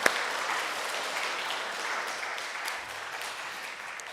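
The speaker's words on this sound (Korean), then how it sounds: "우리 사랑의 마음을 담아서 우리 어머니들을 향해 뜨겁게 감사의 박수 한번 할까요?" A church congregation applauds mothers at a Mother's Day worship service, a steady burst of clapping that slowly fades over a few seconds.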